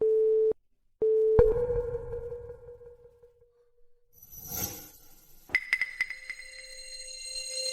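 An unanswered phone call gives two steady beeping line tones, then a low rumble and clatter, followed by bright sustained electronic tones, with no speech.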